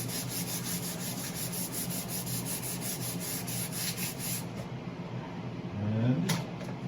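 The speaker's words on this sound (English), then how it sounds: "now's the time to sand. I got leftover sandpaper." Sandpaper rubbed back and forth over a wooden tool handle, a continuous close rasping with a rhythmic pulse of strokes, briefly joined near the end by a low knock and a short tonal squeak.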